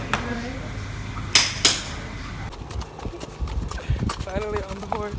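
Horse hooves clip-clop during a trail ride in San Juan, Puerto Rico, with two sharp clanking knocks early on, then an irregular patter of steps while a person talks nearby.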